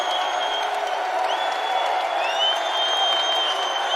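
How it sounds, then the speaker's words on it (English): Arena crowd at a college basketball game between Clemson and West Virginia in Charleston, a steady loud roar of cheering and applause during a scoring run, sustained throughout with whistle-like tones above the din. "Listen to this crowd."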